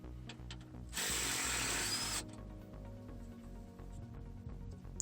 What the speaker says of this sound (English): Undo the radiator bracket bolts.